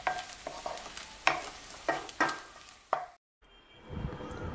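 Eggs seasoned with salt and pepper powder are stirred in an oiled wok: several sharp scraping strokes over a soft sizzle, then a brief silence and a renewed frying hiss.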